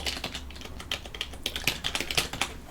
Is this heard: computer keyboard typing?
yes